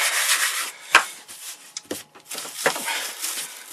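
Sawdust filler being rubbed by hand into gaps in a wood veneer surface, a close, dry scuffing and brushing with a few sharper taps, alone without talk.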